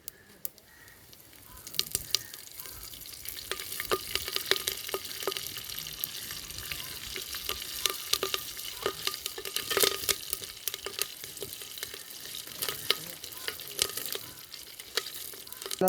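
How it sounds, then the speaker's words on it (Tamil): Steady crackling sizzle of mustard seeds and chilies popping in hot oil, with dense sharp pops throughout, close and fairly loud, no talking. "கடுகு கடுகு பொரிஞ்சுட்டு மிளகாய் போடுறேன் மிளகாய் கருவேப்பிலை"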